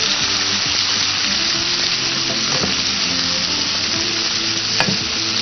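Capsicum and green chillies frying in a pan, a loud, dense, continuous sizzle with stirring scrapes and clinks throughout, close up with no voices.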